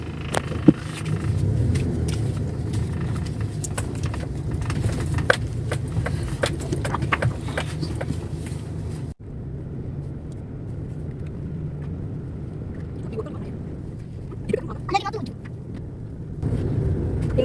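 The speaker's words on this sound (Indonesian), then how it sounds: "Ini lihat, ini banyak kendaraan yang baris berbaris ini. Ini mereka antri bensin subsidi." Cars and motorbikes queue for subsidised fuel on a hot street, a continuous low rumble of idling and passing engines with scattered clicks, briefly dipping midway before the traffic noise returns.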